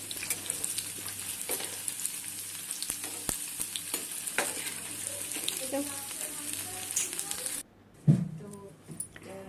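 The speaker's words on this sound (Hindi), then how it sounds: "छोटे क्यूब्स में फ्राई कर रही हूँ।" Small cubes of paneer fry in a pan, a close crackling sizzle with stirring scrapes and clinks that cuts off near the end, followed by a brief clatter.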